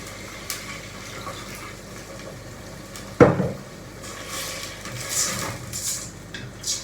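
A little water is poured into a pot of spring dolma in a home kitchen: a sudden splash and brief trickle against the metal pot, with faint clinks of cookware before and after.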